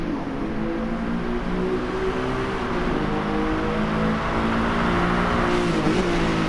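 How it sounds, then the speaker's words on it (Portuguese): A 6-litre Lamborghini Diablo GT V12 revs steadily in GT Sport racing, a loud sustained engine drone with shifting pitch and no talking. "Deixei vocês ouvir o V12"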